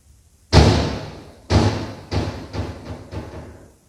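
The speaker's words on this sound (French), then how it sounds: "Une porte se referme brusquement, toute seule, personne autour, aucune raison évidente." A door slams shut hard on its own inside an empty building, with one loud bang followed by several weaker thuds and rattles as it settles, fading over a few seconds with no voices.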